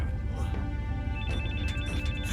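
A telephone rings with a repeating electronic tone over a busy background.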